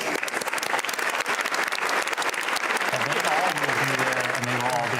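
Audience applause in the chamber during a State of the Union address by Joe Biden, a steady dense wash of clapping throughout, with a voice talking faintly beneath it.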